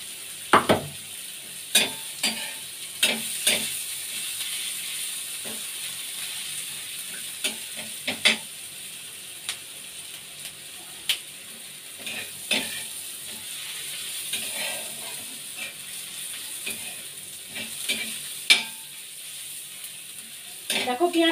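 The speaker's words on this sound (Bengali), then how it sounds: "এটা একটু ভেজে নিচ্ছি।" Onion pieces fry in a pan beside an egg roll filling, a steady faint sizzle broken by repeated sharp scraping and clicking spatula strokes against the pan over about twenty seconds, with no talking.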